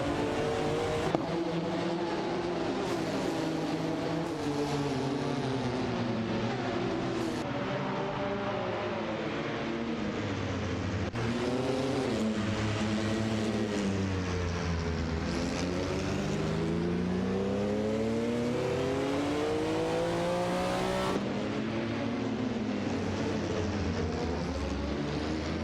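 Race cars in an AI racing video game, engines roaring continuously at high revs with rising and falling pitch as several cars shift and pass, loud and sustained throughout.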